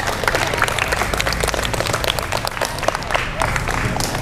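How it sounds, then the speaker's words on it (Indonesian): An audience of children at an Islamic religious gathering claps for two classmates, dense, steady applause filling the room for several seconds with a faint murmur of voices beneath it. "Tepuk tangan buat dua teman kalian"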